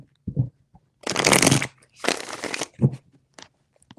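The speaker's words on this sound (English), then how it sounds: "3 shuffles." Tarot cards shuffled by hand in three short bursts of riffling, each around half a second to a second long, close and crisp, with soft handling taps between them.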